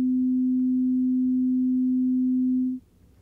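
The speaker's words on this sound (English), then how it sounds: "And I mainly hear this pure tone." A pure sine tone standing in for the pitch of a solid guitar top holds steady and clean at moderate level for nearly three seconds, then cuts off abruptly into near silence.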